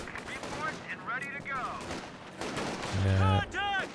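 A .50 cal machine gun fires during a Company of Heroes 2 2v2 match. Short bursts of gunfire come late, mixed with other battle effects, while a commentator talks over them.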